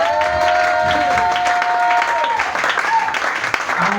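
A church congregation claps and cheers the Lord in a loud burst of applause while a voice carries on over it and a sustained tone fades out partway through.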